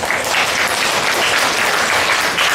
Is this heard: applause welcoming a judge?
yes